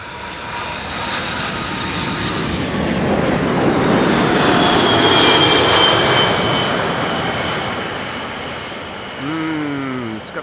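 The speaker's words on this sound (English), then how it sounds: "It's got those Rolls-Royce engines." Cargolux Boeing 747 cargo jet with Rolls-Royce engines at Amsterdam Schiphol Airport, a loud sustained engine roar that swells to a peak midway as it passes close by, then eases off with a whining tone near the end.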